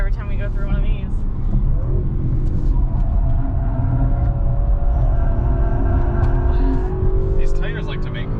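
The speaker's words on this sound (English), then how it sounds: "These tires like to make noise" Tires squealing as a 2021 Audi RS6 Avant corners hard, a drawn-out rising whine riding over steady engine and road rumble throughout, with people talking inside the car.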